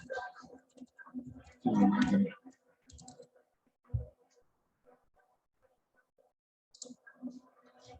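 A computer keyboard gives sparse, irregular bursts of key clicks, close and fairly quiet, with quiet pauses between them and faint speech now and then.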